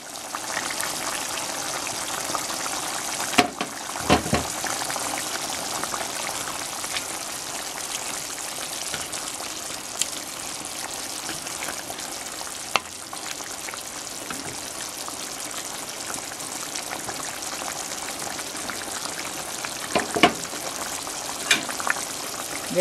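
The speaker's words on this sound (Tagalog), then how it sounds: "Dito po ilalagay po natin yung tomato sauce." Steady, loud frying sizzle from pork cooking in a pan as tomato sauce goes in for a spicy pork menudo, with occasional stirring clinks over the continuous crackle.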